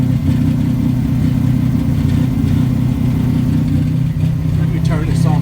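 Buick Grand National engine idling with its exhaust system fallen down, a loud, deep, steady rumble close by, with a brief faint higher sound near the end.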